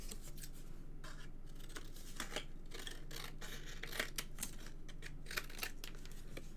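Scissors snip through paper in quick, repeated crisp cuts, close by, over a faint steady hum.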